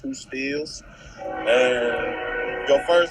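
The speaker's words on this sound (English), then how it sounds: "Sorry about the train, y'all." A train rumbles by with a long horn blast sounding over someone talking, the horn tones swelling and repeating near the end.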